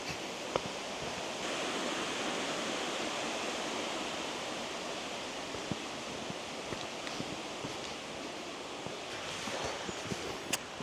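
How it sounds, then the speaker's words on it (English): Catrigg Foss, a waterfall in a Yorkshire gorge, gives a steady rushing roar of falling water that stays even throughout and has faint scattered clicks on top, with no talking. "the waterfall that was behind me when I was at the top is over there"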